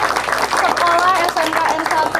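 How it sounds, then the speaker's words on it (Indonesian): Audience at a school event at SMKN 1 Bumi Jaya claps and cheers, a steady, dense wash of applause lasting the whole moment, mixed with voices calling out over it. "beri tepuk tangan dong buat"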